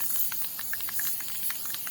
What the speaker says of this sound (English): Shake it up about a minute, and then you just spray it.